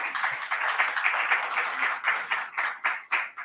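An audience at a press association presentation in La Paz claps in a dense, steady round of applause that swells and thins into a few scattered claps at the end.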